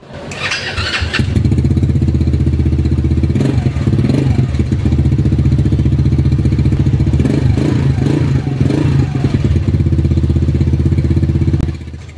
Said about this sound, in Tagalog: Sound check naman natin tong motor na to.